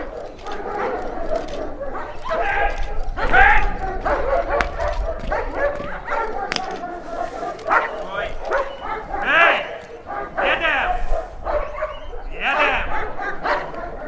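Service dogs bark and yelp continuously during handler training with scent imitators and mock criminals to detain, with loud overlapping barks, whimpers and yips mixed with people shouting nearby.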